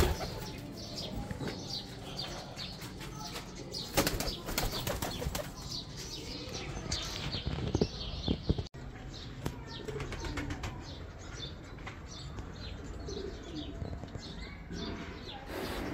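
A pair of fancy Teddy pigeons flap their wings in bursts amid steady cooing and scattered chirps, close by, with other birds and low background noise.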